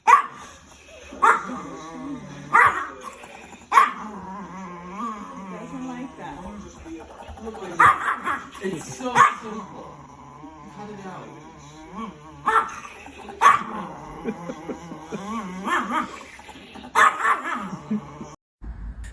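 Angry dog barking and growling in repeated sharp bursts over a steady low rumble, loud and close, with talk and other animal sounds in the background.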